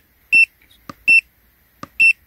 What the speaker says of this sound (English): Beeper, probably the beeping, you can turn it off.